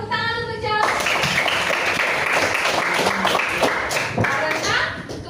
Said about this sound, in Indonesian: Iya, tepuk tangan untuk Jos.